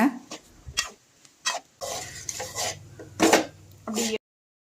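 Chicken fried rice with fried egg being tossed and mixed together in a pan, uneven scraping and clinking strokes of a spoon against metal, with short pauses between bursts.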